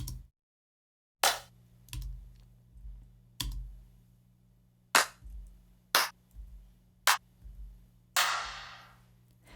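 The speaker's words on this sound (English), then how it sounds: "We've got 50 separate claps." Individual one-shot clap samples from a vaporwave sample pack play one after another, sharp isolated hits spaced about a second apart, each with a short decay and one with a longer washy tail.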